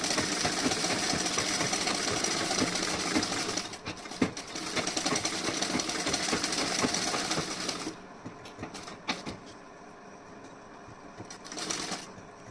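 A sewing machine hums loudly and continuously while stitching a decorative kurti neckline, then breaks into short stop-start bursts toward the end.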